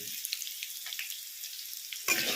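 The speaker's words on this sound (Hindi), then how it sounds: "कटहल को हम गोल्डन ब्राउन होने तक अच्छे से भूनेंगे" Jackfruit pieces frying in oil for an aloo kathal sabzi give off a continuous thin, crackling sizzle, with a louder burst of spattering near the end.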